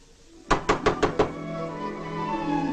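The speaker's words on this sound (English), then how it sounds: "Why, Press, banging on a lady's door." A fist banging on a door in a rapid burst of five loud, evenly spaced knocks, close by, followed by a sustained musical tone from a film soundtrack.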